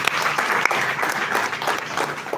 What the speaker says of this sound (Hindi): इसके लिए मैं चाहता हूं कि आप सब जोरदार तालियां बजाएं।